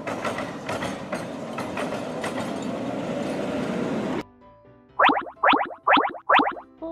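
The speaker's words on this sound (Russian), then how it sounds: "Трамвай! Он передвигается по железным рельсам." A tram rolling along iron rails, a loud rumbling run with clattering wheels for about four seconds, then a quieter stretch broken by a few sharp, evenly spaced squealing bursts.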